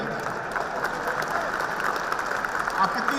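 Audience applause at an indoor program, a steady dense wash of clapping from a crowd that holds at an even level for a few seconds.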